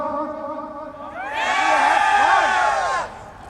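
Audience at an annual Foundation Day celebration bursts into loud cheering and whooping for about a second and a half, rising abruptly after a voice and then cutting off.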